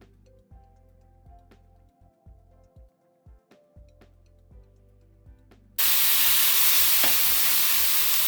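Beef with onions and mushrooms hits a hot Blackstone griddle, a loud broad sizzle bursting in abruptly and holding steady after several seconds of quiet clanking and scraping of utensils.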